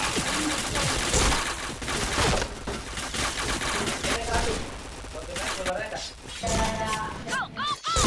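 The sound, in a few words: gunfire in the video game Point Blank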